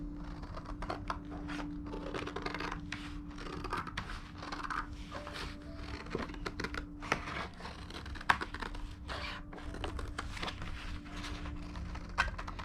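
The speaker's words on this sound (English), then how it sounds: "we're going to grab our scissors and start cutting out" Scissors cut a rough oval paper puppet shape, giving a steady run of crisp snips and paper crinkles close by, with no talking.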